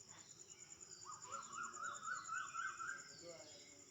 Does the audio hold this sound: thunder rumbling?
no